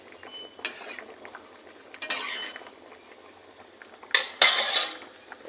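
A metal pot of boiled mango is lifted off a stove with a few sharp clanks and scrapes of cookware, including a louder double clatter near the end, close and with no talk.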